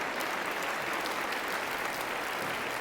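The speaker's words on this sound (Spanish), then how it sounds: "Denle un aplauso a nuestro Dios esta mañana" Dense, sustained applause from a church congregation, steady clapping with no pauses.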